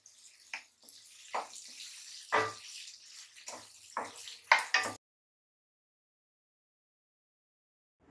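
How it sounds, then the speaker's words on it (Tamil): Water poured into a pan of dry fish curry, a few short gushing splashes in quick bursts over about five seconds, close and fairly quiet, followed by silence. "இப்போ ரெண்டு டம்ளர் தண்ணி ஊற்றிக்கோங்க"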